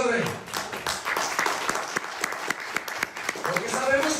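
A church congregation claps along in a rhythmic, moderately loud beat during a sermon, with distinct regular hand claps running under ongoing voices and a busy room.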